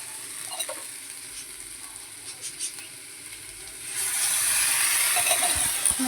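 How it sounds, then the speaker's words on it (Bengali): Ginger-garlic paste sautés in a pan with a soft sizzle and light stirring that swells into a louder, steady hiss of frying about two-thirds of the way through. "তো এবার একটু ভালো করে কষার পালা নাহলে আদা রসুনটা গন্ধ ছাড়বে"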